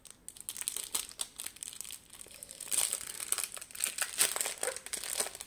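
Plastic zip bags for diamond painting and cross-stitch supplies being handled and opened, giving quiet, close crinkling and rustling that comes in irregular bursts, with no speech.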